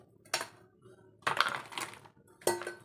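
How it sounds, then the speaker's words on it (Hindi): Two ice cubes dropped into a chutney grinder jar holding lemon and coriander chutney: three quiet hard clinks and rattles against the jar, spaced about a second apart. "तो मैं ये 2 क्यूब डाल दूँगी इसमें।"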